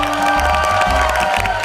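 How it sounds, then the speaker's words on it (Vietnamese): A studio audience on a Vietnamese dating show applauds and cheers loudly to encourage a young woman, a dense burst of clapping and shouts over music. "vỗ tay để khích lệ cô ấy nào"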